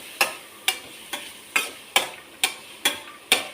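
Grated carrot being sautéed in ghee over low heat, heard as evenly spaced sharp spatula taps against the pan, about eight in a row, over a faint background hiss.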